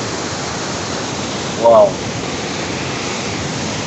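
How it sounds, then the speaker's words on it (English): A waterfall at a village roars as a steady, loud, close wash of water, and one person briefly exclaims over it. "The amazing waterfall."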